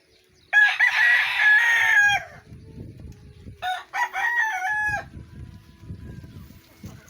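Two loud fighting-rooster crows close by, separated by a short pause, with low clucking and shuffling underneath.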